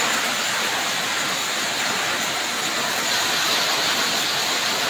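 Heavy rain pours continuously during Cyclone Sitrang: a dense, even, hissing wash of water that stays loud and steady from start to end, with no voices.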